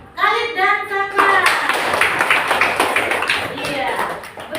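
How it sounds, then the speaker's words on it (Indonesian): A class of schoolchildren claps for two classmates during an Islamic religious studies lesson, a brief teacher's voice giving way to close, lively, uneven hand clapping that fills the room and slowly thins. "Beri tepuk tangan untuk Khalid dan Syaka."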